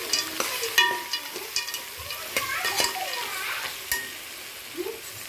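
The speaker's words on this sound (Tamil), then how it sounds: "இதை நல்லா கிளறிடலாம்." Macaroni with masala is stirred in a hot pan, giving a soft sizzle with scraping spoon strokes and occasional clinks, close up and without talk.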